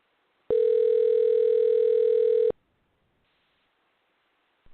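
A telephone ringback tone sounds once as a steady two-second tone on an unanswered call, then stops, leaving near silence.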